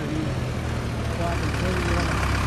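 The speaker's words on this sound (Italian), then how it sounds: "Qui abbiamo un trattore che sta arrivando a tutta forza." A heavy tractor engine rumbles steadily close by at a farm in Friuli Venezia Giulia, Italy, a deep low drone that grows slightly louder as it nears at full power.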